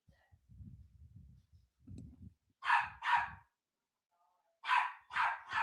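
After some low, muffled talking, a pet dog barks indoors: a pair of sharp barks, a pause, then three more in quick succession, moderately loud and nearby.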